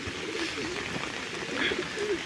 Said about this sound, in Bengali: এই যে এখন যে কবুতরগুলি ভিজতেছে